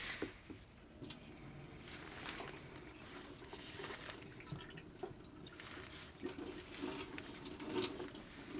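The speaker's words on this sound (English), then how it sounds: "Okay guys, I'm going to test out the hot water." Hot water tap fed by an old 1994 water heater runs steadily, a continuous hiss of flowing water with faint splashing, close and moderately loud throughout.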